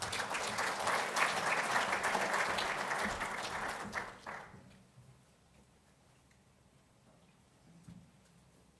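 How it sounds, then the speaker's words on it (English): An audience at a memorial law lecture applauding loudly for about four seconds before the clapping fades into a quiet room. "Please give them a round of applause."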